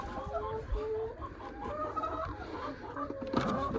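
Chickens on a village farm cluck in short, overlapping calls close by, steady for a few seconds, with a brief louder squawk near the end.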